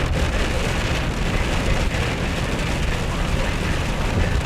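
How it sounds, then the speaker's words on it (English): Heavy rain pounds steadily on a moving vehicle during a storm chase, a dense, loud, continuous wash of drops with no breaks. "We're getting into really heavy precip now."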